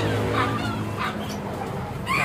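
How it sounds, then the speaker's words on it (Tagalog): Dogs at an outdoor pigeon market in Bulacan, Philippines, giving a few short barks and yips close by over a busy background of birds and market noise. "May mga aso rin."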